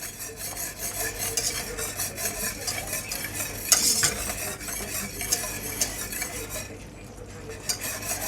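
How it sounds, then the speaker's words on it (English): A utensil stirs and scrapes steadily around a pan while flour is worked into gravy for a roast lamb meal. The close, rhythmic scraping carries on with no talking. "you can keep adding flour and stirring it consistently"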